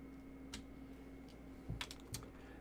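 Keystrokes on a Qwertykeys QK101 mechanical keyboard land as a few sparse, quiet clacks in a row over faint room hum, close to the listener, with no talking.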